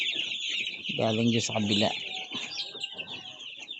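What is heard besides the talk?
chickens clucking in backyard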